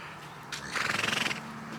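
A horse on the Kent coast at Pegwell Bay gives one short, fluttering nasal snort close by, a brief blow of breath through its nose.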